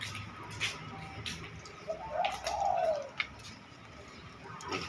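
A spotted dove coos softly in a short rolling phrase, fairly distant, over faint background noise and light clicking.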